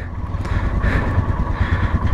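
Royal Enfield Himalayan motorcycles set off from a hotel onto a potholed road, a steady close engine drone with mild revving throughout.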